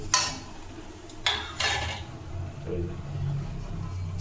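Semolina and gram flour being roasted in a pan for halwa, with a few sharp metallic scrapes and clinks of a spoon against the pan, then softer stirring rustles.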